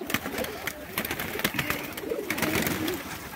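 Many pigeons cooing close by in a pair of lofts holding around 140 to 150 birds. Soft, overlapping coos repeat continuously, mixed with light rustling and fluttering.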